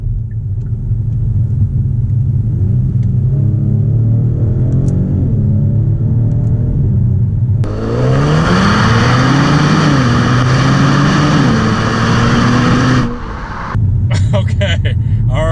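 A 2019 Genesis G70 accelerates on a test drive, its engine note climbing steadily in pitch, briefly dropping at a gear change, then surging louder through another rising pull before easing off near the end, heard from inside the cabin.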